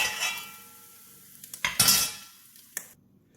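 A utensil scrapes and clinks against a pan while diced luncheon meat is scooped out, giving a few sharp metallic taps and brief scrapes close by before it goes quiet.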